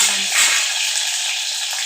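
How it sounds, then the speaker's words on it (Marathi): A bright, steady sizzle of spices frying in hot oil for a tempering, close and continuous, with a brief muffled sound at the start. "तेलामध्ये छान अशी फ्राय झाली"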